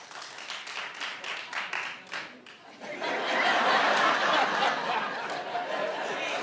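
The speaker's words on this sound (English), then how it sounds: "Clap if you've seen the Justin Bieber documentary" Comedy show audience breaking into scattered applause, the clapping swelling into a steady wash of many hands with some chuckles and chatter mixed in.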